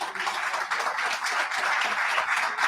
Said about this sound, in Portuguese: Aplauda Jesus de novo